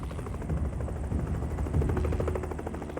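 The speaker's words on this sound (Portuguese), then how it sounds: "O helicóptero excedeu suas horas de voo e precisa retornar à base." A helicopter flies over a forest during a rescue search, its rotor giving a steady, rhythmic whirring thump that stays fairly loud and continuous, with no talking.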